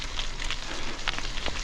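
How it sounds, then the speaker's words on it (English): Rain patters steadily on a forest track in Scotland's Dumfries and Galloway, a continuous soft hiss broken by scattered drip sounds and light taps, with no voices. "Still raining, of course, but I'm making good progress just through the endless forest tracks"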